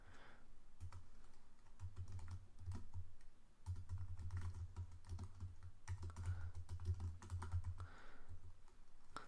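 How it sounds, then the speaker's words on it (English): Steady typing on a computer keyboard while entering code, quiet and close, with rapid key clicks in bursts and a low hum underneath. "see if you can follow along and type what I'm typing in your playground"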